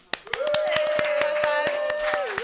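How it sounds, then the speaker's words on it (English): Audience clapping along in a steady, evenly spaced beat at an anti-bullying event with children, sharp close claps under a long held vocal note. "Clap it for Mina."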